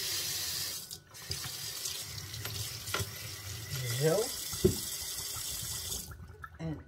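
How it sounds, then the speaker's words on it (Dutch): A kitchen tap runs into the sink during couscous prep, a steady rushing stream of water that briefly dips near the start, with light clatter of handling and a single short spoken word. "Even de kraan."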